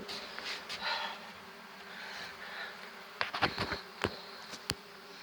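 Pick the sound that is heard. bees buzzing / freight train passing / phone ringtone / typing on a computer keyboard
bees buzzing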